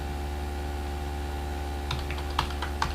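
Code being typed on a computer keyboard: a short cluster of light key clicks near the end, over a steady electrical hum, with no voice.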